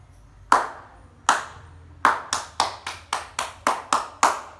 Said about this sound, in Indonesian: Berapa kali ibu tepuk? 4.